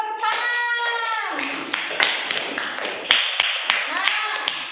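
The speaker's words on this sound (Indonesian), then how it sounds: "Ya, belum tepuk tangan." A class of children claps hands during a lesson. A voice speaks first, then scattered, uneven claps follow, close and moderately loud, with irregular gaps between them.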